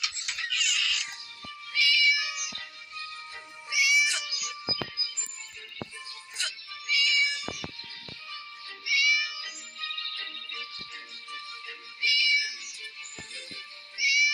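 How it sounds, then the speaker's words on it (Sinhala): Repeated cartoonish cat meows in a mobile video game, about one every two seconds, bright and clear over a faint steady game background with occasional soft clicks. "බලන්න යාළුවනේ පූසා කෑ ගහන සද්දෙත් පවුනේ."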